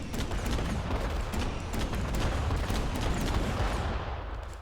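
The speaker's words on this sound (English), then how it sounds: "The pirate cannon's pretty good." Pirate cannon weapon firing in the video game ADACA, a dense continuous barrage of booming blasts with mechanical clatter, loud and steady throughout.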